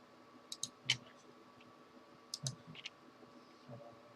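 A computer mouse gives a few faint, sparse clicks while chests are opened in the video game Astonia 3, close by against a quiet background hum.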